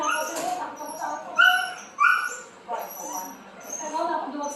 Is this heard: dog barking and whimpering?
yes